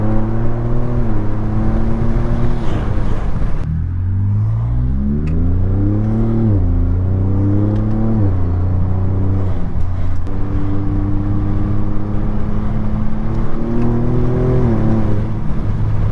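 Ford Raptor pickup fitted with an AWE exhaust revving repeatedly: a loud, close engine note rising and falling through several long pulls, settling into idle between them.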